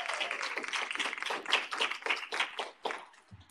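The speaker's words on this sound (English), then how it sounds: "How about a round of applause for all of them?" An audience at a community college town hall gives a round of applause, a fairly soft, dense patter of many hands clapping for a few seconds before it thins out.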